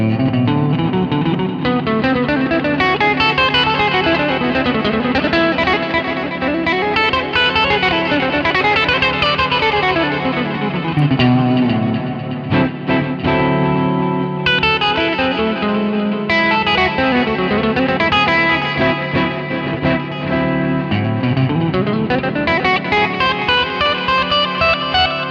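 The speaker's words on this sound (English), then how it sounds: "It's that Lydian Dominant sound that we all love." Distorted electric guitar with chorus and effects plays continuous fast Lydian Dominant melodic-minor lines over a blues, the notes sweeping up and down in rapid runs without pause.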